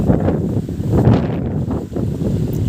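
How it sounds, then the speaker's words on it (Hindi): Strong wind buffets the microphone in a steady, rumbling roar with gusts that swell and dip, no voices. "बहुत ज़्यादा तेज़ हवा चल रही है"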